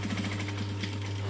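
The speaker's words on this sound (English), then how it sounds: "Start at the edge of the hole, back stitch a couple of times, and then stitch it closed" A sewing machine runs steadily, stitching a hole in a clutch lining closed, with a fast, even mechanical whir and rapid needle ticking, close and continuous with no talking.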